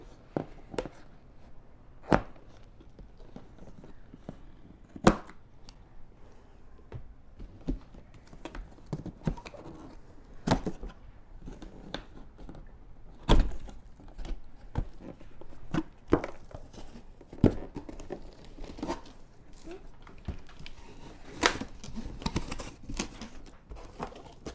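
Cardboard box for a Segway Max electric scooter being opened, with scattered sharp tearing, crinkling and knocking noises at close range and no speech.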